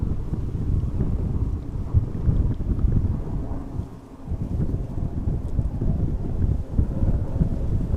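Wind blows at Amsterdam Schiphol Airport, a continuous low rumbling roar buffeting the microphone with gusty fluctuations and a brief lull midway, close and fairly loud.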